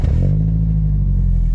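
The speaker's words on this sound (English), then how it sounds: "So immediately you get this throaty roar. It does have an aftermarket exhaust" A turbocharged Toyota Celica GT-Four with an aftermarket exhaust gives a brief, loud, deep, throaty engine roar that settles into a steady, bassy drone up close.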